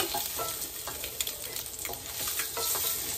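Steady crackling sizzle of eggs frying in a pan, close and continuous, with occasional light clinks.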